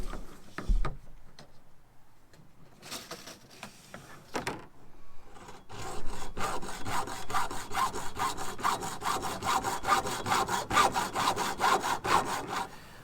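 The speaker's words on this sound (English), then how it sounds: "The first thing I'm going to do is cut this 10-foot PVC pipe into 2 poles that are 5-foot length." A hand saw cutting 10-foot PVC pipe into two 5-foot poles. It starts with a few tentative strokes, then settles into a fast, steady rhythm of close, rasping back-and-forth strokes with no voices.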